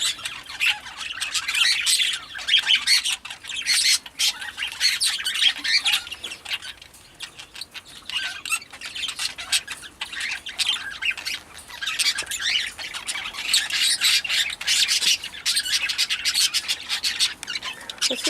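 Breeding birds squawk almost continuously in harsh, scratchy bursts, busy and fairly soft, with occasional chirps mixed in.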